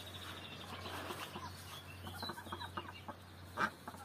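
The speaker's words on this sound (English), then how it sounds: "We also have a few chickens right here, and I think we have 11 of them, or 12." Chickens in a backyard garden coop of about a dozen birds cluck softly and intermittently, fairly distant and quiet against steady background hum, with one louder squawk near the end.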